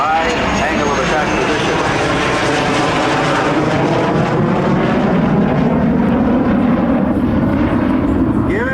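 A military jet passes slowly at high angle of attack with gear and flaps down at a 1997 air show at Quonset ANG base, its loud engine roar steady and sweeping throughout, with an announcer talking over it.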